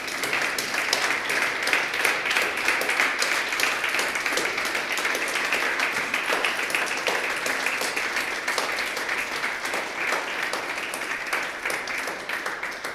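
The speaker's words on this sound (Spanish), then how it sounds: "Dar un aplauso grande al Señor." Congregation applauding during a church service, a long, dense, even wash of clapping from many people that holds steady throughout, with no voices standing out.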